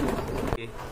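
Pigeons of the high-flying breed sold in pairs at a bird market coo and rustle close by for about half a second, then the sound drops to a quieter murmur.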